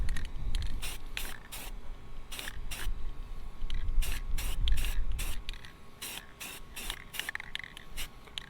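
Short, close bursts of spray paint from an aerosol can hiss repeatedly in an irregular rhythm as a windscreen is blacked out, each blast a sharp loud hiss separated by brief pauses.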